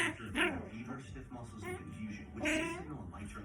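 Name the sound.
ten-week-old puppy whimpering and yipping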